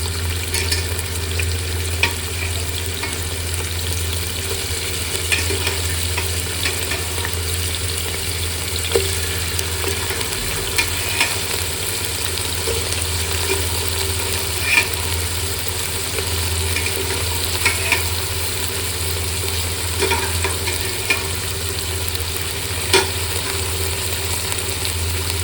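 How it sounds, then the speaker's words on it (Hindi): Tender mutton sizzles and fries in a pot for a pulao while being stirred, a steady close crackling hiss with occasional scraping clicks throughout, no voices. "देखें अब गोश्त ऐड कर देंगे।"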